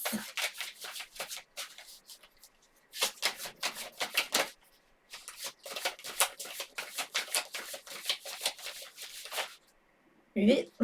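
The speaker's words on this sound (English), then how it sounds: "Let's pull some cards for that." Tarot cards shuffled and pulled by hand, a long run of rapid riffling taps in several bursts with brief pauses, close and crisp, ending with a short louder handling sound.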